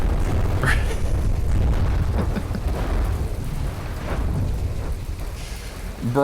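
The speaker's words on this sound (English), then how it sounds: "A bunch of torpedoes just hit the ground." Torpedoes striking the ground in the naval combat video game From the Depths, heard as a continuous deep rumbling roar of explosions, loud and dense throughout with faint crackles over it.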